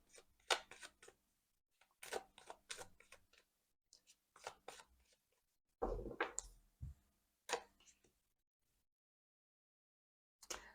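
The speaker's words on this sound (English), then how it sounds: "get comfy as I'm shuffling the cards" Tarot cards are shuffled in quick crisp riffles and flicks, arriving in short bursts separated by pauses, close and fairly quiet, with no talking.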